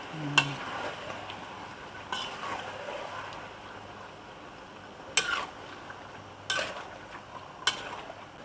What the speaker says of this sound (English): Stir it.